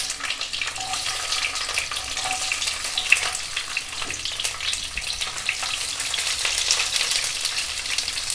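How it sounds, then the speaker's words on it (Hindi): Large-cut onions and capsicum sizzling in hot oil and ghee in a kadai, a steady crackling fry held close and fairly loud for several seconds, with no voices. "तेल और घी गर्म होते ही हम इसमें देंगे बड़े साइज में कटे हुए प्याज और कैप्सिकम को।"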